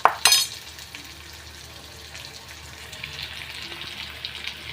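Onion and tomato frying in a pan give a steady, soft sizzling hiss, preceded by a brief sharp clatter of utensils at the start; close but fairly quiet, with no voices.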